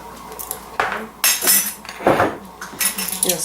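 A spoon clinks against a bowl while salt, nutmeg and pepper are stirred together for smothered pork chops, several sharp irregular scrapes and taps, close and clear, with no talking.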